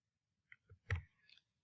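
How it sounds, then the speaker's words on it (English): F4 key pressed on a computer keyboard, a few small, close plastic clicks in quick succession against near silence. "you press F4 on your keyboard."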